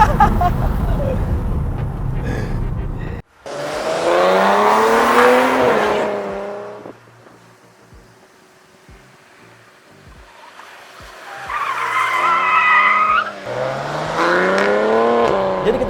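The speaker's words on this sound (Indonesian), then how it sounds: "di dekat red line bahkan ada suara letupan-letupan keras dari knalpotnya" A 2019 Maserati Ghibli S GranSport sedan revs loudly in rising and falling sweeps, dropping to a quieter idle midway before revving hard again, with crackles from the exhaust between pulls.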